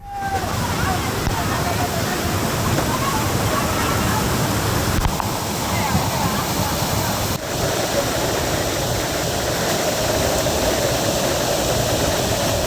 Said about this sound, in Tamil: கனமழையின் காரணமாக மணிமுத்தாறு அருவி மற்றும் அகஸ்தியர் அருவியில் வெள்ளப்பெருக்கு ஏற்பட்டுள்ளதால்